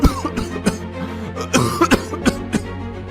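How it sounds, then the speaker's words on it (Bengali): A cartoon beggar coughs in a run of harsh, repeated bursts, close and loud, with short gaps between the hacking coughs. "আপনি কাশছেন কেন?"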